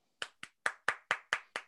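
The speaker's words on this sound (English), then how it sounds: "Clapping ignites the spirits." Seven sharp hand claps ring out one after another at a steady, fairly quick pace, close and loud against silence.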